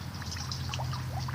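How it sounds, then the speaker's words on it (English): A person urinates into a lake, producing a steady bubbling trickle and splash against the water surface, close and continuous, with a low hum underneath. "When the pee made the bubbles in the water, I can actually see it going down."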